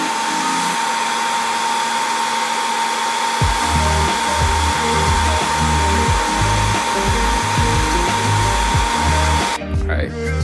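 A heat gun heat-setting a coat of paint on a Whopper Plopper fishing lure blows with a loud, steady whirring roar, close up, running almost the whole time before cutting off near the end.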